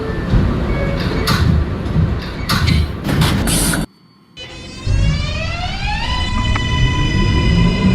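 NYC subway R142A train doors in the OpenBVE simulator, with a loud running rumble and clatter, an abrupt door-closing thud into near silence, then a rising whine as the train pulls away.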